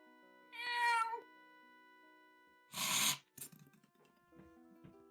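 A player imitates a cat with a drawn-out vocal meow, then a second, harsher yowling mew follows after a pause, close and fairly loud against a quiet room.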